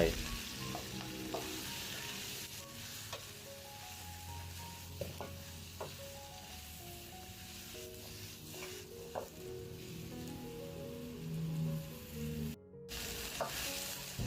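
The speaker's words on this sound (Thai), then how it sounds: "ผัดกระเทียมจนหอมแล้วใส่ผักลงไป" Chinese kale tossed with garlic in a pan, steady loud sizzling and frying with scraping stir strokes throughout, continuous and close with no talking.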